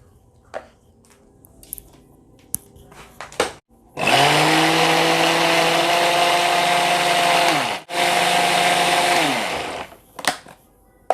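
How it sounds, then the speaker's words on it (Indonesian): A blender purees steamed yellow pumpkin with Blue Band margarine for a steamed pumpkin sponge cake. It gives a loud, steady motor whir for about five seconds, dips briefly, then spins on and stops, with quiet kitchen clatter before and after. "Aku blender dulu ya."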